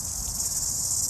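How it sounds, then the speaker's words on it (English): Dense, steady high buzzing of cicadas and other insects on a hot day outdoors, continuous and fairly loud throughout the short moment, with faint low rumble beneath. "cicadas aren't going to actually try and get you"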